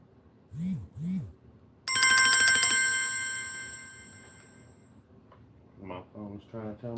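A phone rings once with a bright electronic tone that holds about three seconds and then fades, after a couple of short animal-like sounds, with a voice talking in the room afterward.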